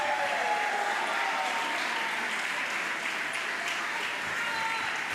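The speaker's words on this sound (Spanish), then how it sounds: "un aplauso más fuerte." A church congregation applauding loudly and steadily in a full, unbroken roar of clapping that fills the space for several seconds.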